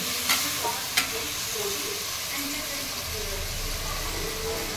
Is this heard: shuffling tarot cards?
no